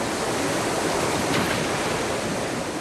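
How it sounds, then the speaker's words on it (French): Turbulent standing waves on the Eisbach river in Munich, where surfers ride, make a dense, constant roar of rushing water, close and loud, with no speech. "les eaux tumultueuses de l'Eisbar offrent même des vagues d'entraînement aux surfeurs"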